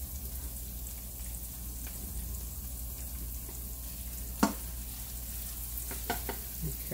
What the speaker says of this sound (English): Flip those onions one time. Get them nice and sauteed.